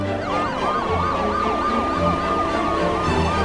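Ambulance siren wailing loud and close, its rapid rising and falling sweeps repeating steadily over a low traffic rumble, with no talking.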